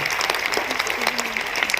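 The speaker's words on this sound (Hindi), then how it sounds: "तालियां आप सबकी तरफ से हो जानी चाहिए।" Audience applause at a state teachers' award ceremony, a dense, lively burst of clapping from a large crowd, loud and sustained.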